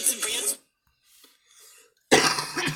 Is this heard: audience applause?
no